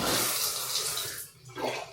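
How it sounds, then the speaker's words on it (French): Water gushing steadily from a bathroom tap just after the supply returns following a water cut, a loud close rushing stream that dips briefly before surging again. "L'eau est revenue."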